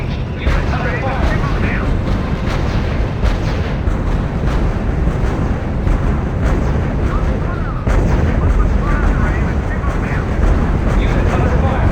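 Dense gunfire and booming artillery in the video game R.U.S.E., a loud continuous barrage of overlapping shots and blasts under occasional radio voices.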